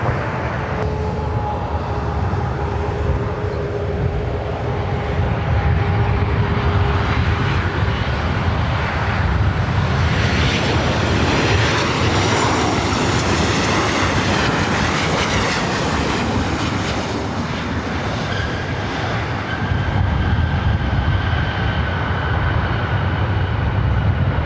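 Steady, loud roar of jet aircraft at LAX airport, a broad continuous engine rumble with a rising whine midway, heard from close by on the airfield with no talk over it.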